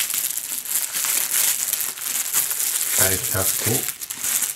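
Cellophane wrapping on a box of Pascual iceberg lettuce crinkles and crackles loudly and continuously as a knife cuts it open, with a brief spoken voice partway through.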